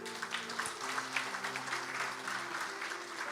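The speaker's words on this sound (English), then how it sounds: "Clap for that." An audience at a religious discourse claps steadily in a hall, a moderate, even patter of many hands lasting a few seconds, with a faint voice under it.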